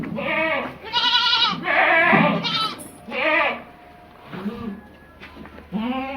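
A young goat kid on a goat farm in Asansol bleats loudly and close by in a series of repeated, wavering calls separated by short pauses.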